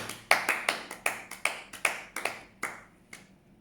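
A church congregation applauds during a Thursday prayer service, a string of about a dozen sharp, evenly spaced claps that thin out and fade toward the end, fairly close and with no talking over them.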